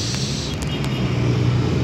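Sempati Star patas-class buses, Scania K410 and K360, pass at night on a road toward Medan, giving a steady low engine rumble and road noise that swells slightly and holds through the whole stretch.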